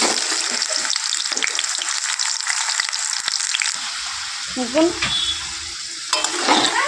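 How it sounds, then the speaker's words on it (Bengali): Potato pieces sizzle and crackle loudly in hot oil in a wok while being stirred, a steady frying hiss throughout; a voice speaks briefly over the sizzle toward the end. "এবার আলুটা ভেজে নেব।"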